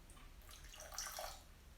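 Water poured over sugar in a pan while making Italian meringue syrup gives a faint, brief splashing trickle that swells for a moment near the middle.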